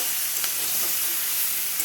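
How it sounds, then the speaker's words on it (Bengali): Mixed vegetables fry in a pan for a vegetarian mixed-veg dish, giving a loud, steady sizzle as they are stirred, with no talking. "দেখো বন্ধুরা সমস্ত সবজিগুলো আমি ভালো করে ভেজে নিচ্ছি।"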